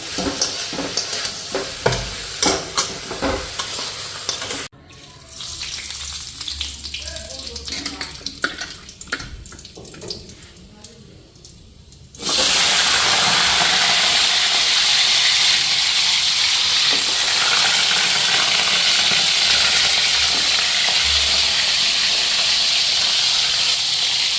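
Potatoes fry with cumin and bay leaf, starting with stirring clatter and uneven sizzling, then a sudden loud, steady hiss of frying that holds to the end.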